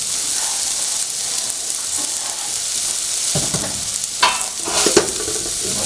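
Onions fry in a pan for pork curry, giving a loud, steady close sizzle with a few scraping stir strokes near the end and no talking.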